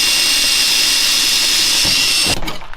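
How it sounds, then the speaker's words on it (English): A jigsaw cuts a rectangular window out of a sheet of plywood, making a loud, steady, high-pitched buzzing whine that stops abruptly near the end. "Here's the piece of plywood. You just Drew a long rectangle, about 9 inches. You could do the windows however you want though. Jigsaw it."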